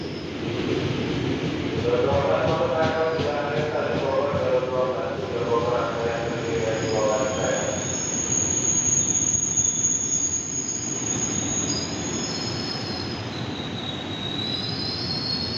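A KRL commuter train to Bogor rolls into a platform at Manggarai Station, Jakarta, with a steady rumble, high metallic wheel squeals ringing out over the noise, growing shrill toward the end.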